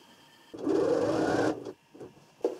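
A sewing machine runs one steady stitching burst for about a second while sewing a fabric strip onto a small child's blanket, followed by a few short clicks and taps of handling.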